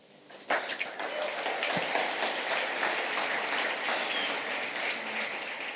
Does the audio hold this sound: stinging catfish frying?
no